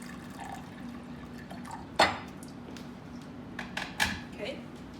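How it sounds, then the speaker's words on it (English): One cup of lukewarm water poured into a bowl while making deep dish pizza dough, with brief splashes and clinks against the bowl heard under a talking voice. "I'm gonna add a hot lukewarm water, 1 cup."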